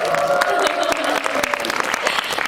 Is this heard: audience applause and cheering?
yes